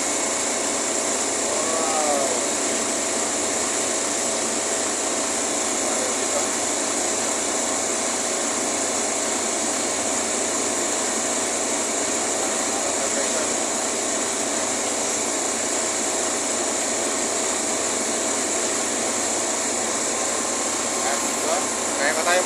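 A 30 horsepower refrigeration compressor runs at a refrigeration facility, giving off a constant, loud mechanical whine and hiss with a steady hum underneath, unchanging throughout, while people talk faintly nearby.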